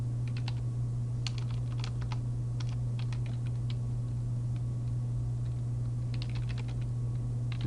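Someone types on a computer keyboard in short, irregular bursts of crisp key clicks over a constant low electrical hum, with no speech.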